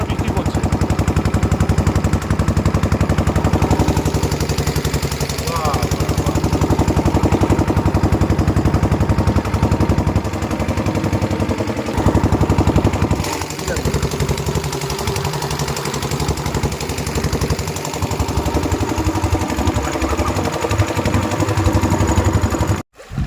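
A motor boat engine chugs steadily on shallow water near a beach, a loud, close, even knocking rhythm that runs for the whole stretch with little variation and no talk.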